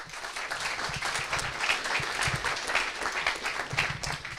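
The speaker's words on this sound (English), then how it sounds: "Please welcome with a big applause James Wood and the team from Cambridge Vision" Big round of applause welcoming a medtech startup team onto the stage at an investor day in Bern, dense and lively clapping from a crowd, sustained and fairly loud throughout.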